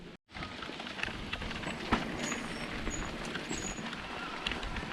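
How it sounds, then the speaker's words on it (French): Rain falling during an electric mountain bike ride: a steady, dense hiss of drops with scattered ticks and patters, fairly close and moderately loud, broken by a brief dropout at the start. "Finalement, on prend la pluie."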